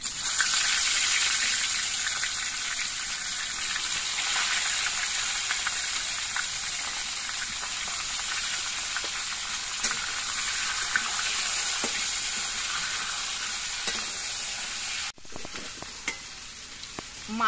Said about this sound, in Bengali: মাছের মাথাগুলো নাড়াচাড়া করে বেশ কিছুক্ষণ ভেজে নিয়েছি